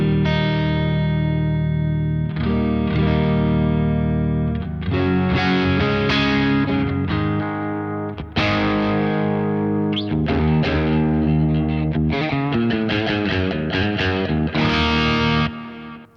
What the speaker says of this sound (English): here's the guitar straight into the Kraken